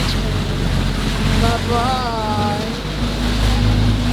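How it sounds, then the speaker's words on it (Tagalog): Sea waves heard from a boat off Banal Beach in Coron, a steady broadband wash of water and wind that runs through the whole stretch, with a brief voice and some tonal engine-like hum underneath. "Ito na ulit yung mga alon."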